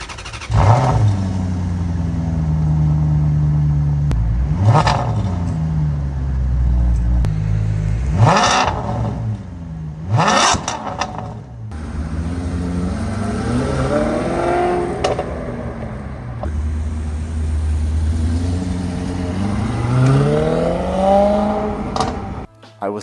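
Maserati Quattroporte engine heard from inside while driving slowly, a deep loud growl that swells in repeated rev sweeps with sharp throttle blips between gear changes, close and continuous throughout.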